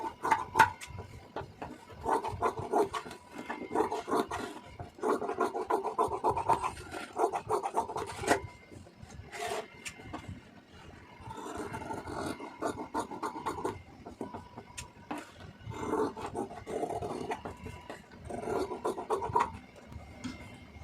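Scissors cutting through blouse fabric for a 46-inch blouse in bursts of rough, rasping snips, steady and close, with short pauses between runs of cuts and no talking.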